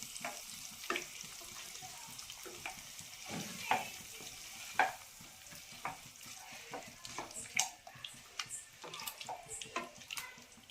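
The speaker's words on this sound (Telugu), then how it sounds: "శుభ్రం కలుపుకుందాం దీన్ని." Cucumber dal, Andhra style, with lentils added to a curry-leaf tempering, stirred in a pot. A spoon scrapes and taps close by in an irregular rhythm over a soft sizzle, and no one speaks.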